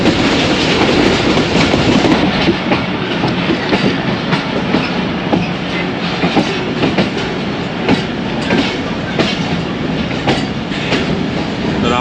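A passenger train on the 101UP Subk Raftar service near Lahore runs steadily on its rails, loud and close, with a continuous rumble and regular clickety-clack of wheels over rail joints and no talk.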